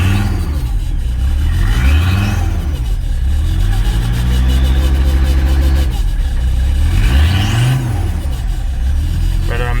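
A 1985 Mercedes 300SD turbo diesel engine revs up and falls back in loud, close swells. The turbo spools audibly as the revs climb, and a voice talks over the engine at times.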